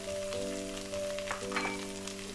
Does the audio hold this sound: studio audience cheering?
no